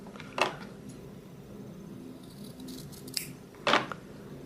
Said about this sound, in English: So I'm going to take and just cut those corners. I'm cutting slow to make sure I didn't cut the stitches.